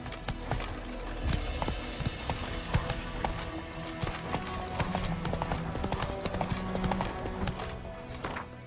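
Hooves clip-clop in a quick, steady rhythm as a horse moves along in The Witcher 3, with faint game ambience underneath.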